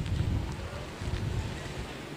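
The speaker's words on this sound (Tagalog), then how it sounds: "Nakikita natin na napakalakas na bugso ng hangin." Strong gusts of typhoon wind roar across the microphone in a storm-hit street, a loud steady buffeting rush with slight surges and no voices.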